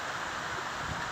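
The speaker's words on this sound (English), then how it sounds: "it's a nice windy," Steady rain with a gusty wind sweeping through, a broad continuous hiss with low rumbling gusts, no voices.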